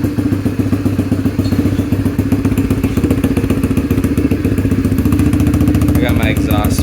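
A Yamaha TTR125 dirt bike with a Mikuni TM24 carburetor runs close by, its single-cylinder engine thumping in a rapid, even, loud rhythm that holds steady throughout.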